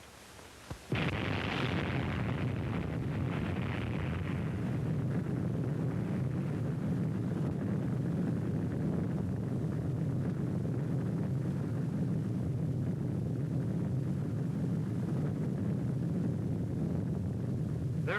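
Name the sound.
atomic bomb test explosion, Operation Crossroads Shot Able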